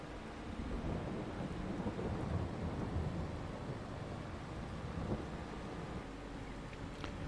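Steady broadband roar of heavy rain and storm wind with low rumbling thunder in a farming video game, continuous and loud for the whole stretch with no voices.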